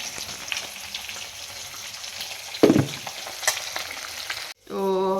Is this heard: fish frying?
yes